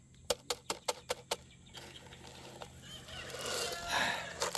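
Backyard chickens cluck in a quick run of sharp, evenly spaced calls up close, then fall back to softer, scattered clucking over a rising rustle of outdoor noise.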